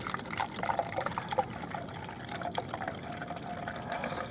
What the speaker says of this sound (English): So I just got a bottle of fresh water. I'm going to try and pour it in there with one hand.